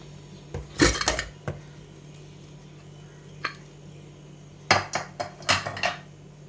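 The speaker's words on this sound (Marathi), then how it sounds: "आपला कुकर थंड झालेला आहे आता आपण ओपन करून बघूया" Metallic clanks and clatters of a cooled pressure cooker lid being opened, a few sharp knocks early, then a cluster of rattling metal sounds near the end.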